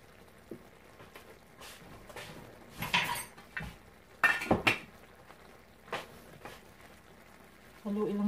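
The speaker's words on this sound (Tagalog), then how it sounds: "Haluin lang natin siya ng konti." A spoon stirs salmon and eggplant stew in coconut milk with pechay in a cooking pot, giving a few scattered metallic clinks and scrapes against the pot while someone talks.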